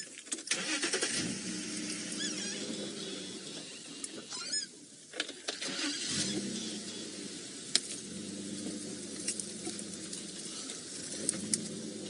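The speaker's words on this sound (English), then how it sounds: "I'm just going to move the car a little bit." A safari vehicle on a morning game drive near lions, its engine cranking and starting, then running and idling steadily up close, with scattered clicks and bumps.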